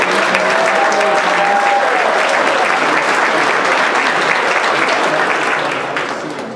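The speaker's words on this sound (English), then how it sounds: "Please give all of our sponsors a generous round of applause." Sustained applause from a large banquet audience at a 2016 Chinese community center Spring Festival gala in Atlanta, dense and steady throughout before easing slightly at the end.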